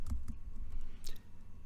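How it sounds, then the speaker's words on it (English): A few scattered clicks of typing on a computer keyboard, close and fairly quiet over a low background hum. "I'm going to start typing in the name of the table."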